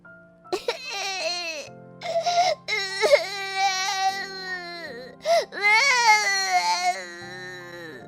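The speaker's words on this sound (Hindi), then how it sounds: "उसने देखा कि कूड़े के ढेर के पास एक छोटी सी बच्ची रो रही है।" A little baby girl cries beside a rubbish heap in an animated Hindi story, loud wailing sobs in several close bursts with short gasping breaks between them.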